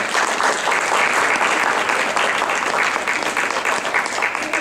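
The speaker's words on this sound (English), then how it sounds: "Please give a big round of applause." A crowd in a temple claps steadily in loud, sustained applause that fills the whole stretch without pause.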